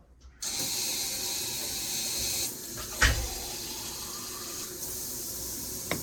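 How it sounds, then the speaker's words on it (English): Water from a tap filling a cup for a Disney Princess color reveal toy, a steady rushing stream running for several seconds with a brief clunk partway through. "So I'm gonna fill up this cup with water."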